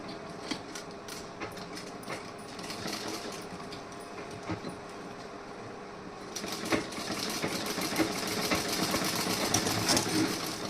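A sewing machine runs steadily while stitching a beaded blouse, its fast needle clatter rising a little louder partway through, close and with no talking.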